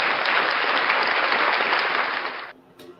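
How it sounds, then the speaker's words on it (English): A crowd gives a round of applause, a thick burst of clapping that holds steady for a couple of seconds and then stops abruptly, leaving near silence. "Ladies and gentlemen, round of applause for you guys."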